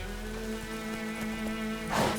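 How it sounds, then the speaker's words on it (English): Steady rain pours in The Witcher 3: Wild Hunt, a constant wash of drops under a low ambient hum, with a louder splashing swell near the end. "It's pouring like this"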